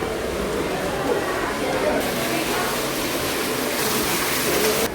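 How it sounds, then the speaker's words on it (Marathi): Continuous water flow at the crocodile enclosure of Mumbai Zoo, a steady broadband rush like a stream or small waterfall, fairly loud and unbroken throughout. "खालून अगदी पाण्याचा फ्लो वगैरे आवाज येते असेल."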